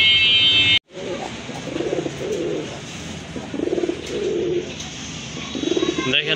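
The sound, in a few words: pigeon cooing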